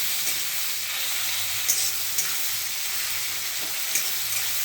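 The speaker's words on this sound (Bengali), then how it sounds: "এবার আলুটা দিয়ে দিয়েছি।" Potatoes sizzling steadily in a hot pan while cooking for chow mein, a loud, continuous frying hiss close by, with faint stirring scrapes now and then.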